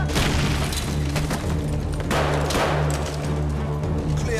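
A frag grenade detonates in the Modern Warfare 3 video game, a loud booming blast with a sharp burst around midway, set against a dense, continuous wash of battle noise and low rumble.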